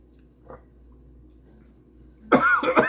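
A couple of sharp, loud coughs burst out near the end after a quiet stretch, preceded by a faint brief throat sound.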